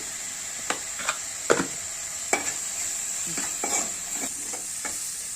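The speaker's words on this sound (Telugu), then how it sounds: "ఇప్పుడైతే వీటిని మనం కొంచెం ద్వారాగా వేపుకోవాలి సాల్ట్ అయితే వేస్తున్నాను" Raw banana pieces fry with salt in a pan, giving a steady close hiss of sizzling oil broken by several sharp scrapes and taps as the pieces are stirred.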